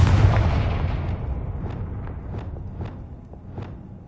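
A Confringo fire spell in the video game Hogwarts Legacy bursts in a loud, rumbling explosion that slowly decays, with several faint crackling pops scattered through the fading tail.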